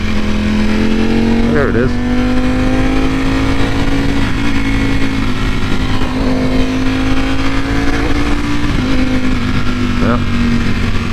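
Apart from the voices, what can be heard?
Ducati V4 motorcycle engine shifting with quickshifter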